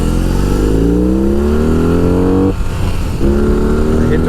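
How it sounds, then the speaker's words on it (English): A car engine revs hard from first gear, climbing steeply in pitch up to the rev limiter of about 5,000 RPM, then a brief drop before it revs again, loud and close. "Hit the rev limiter there"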